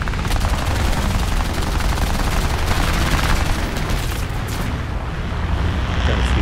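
Bursts of aircraft machine gun fire in War Thunder air arcade from a CR.32 quater biplane fighter, a dense continuous rattle of shots over steady engine roar, loud and close with no talking.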